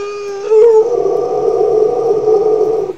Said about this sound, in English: inward growl